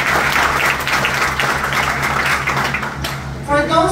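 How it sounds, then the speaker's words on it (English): An audience breaks into sustained, dense applause at a corporate Riway event, loud and steady for several seconds before thinning near the end, with voices mixed into the clapping. "Can we give them a big round of applause?"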